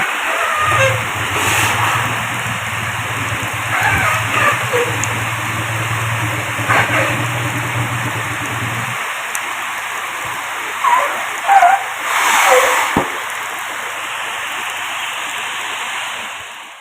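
Steady heavy rain pours down in a constant wash, with a low engine hum underneath for the first half and a few brief knocks later.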